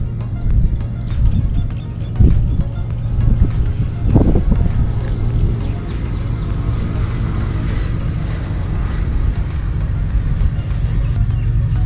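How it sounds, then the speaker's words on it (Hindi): A freight train, 501 Up with a GU40 locomotive leading, passes through Chutiana railway station: a steady low rumble with heavy engine drone and a few clanks, sustained throughout at moderate distance. "अब में एक गाड़ी 501 अप चटियाना रेलवे स्टेशन से पास हो रही है।"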